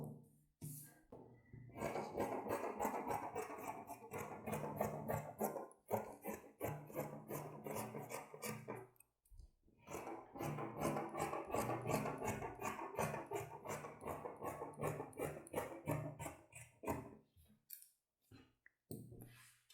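Scissors cut fabric pieces for a cropped top in repeated rasping snips and rubs, in two long bursts separated by brief pauses, with no one talking.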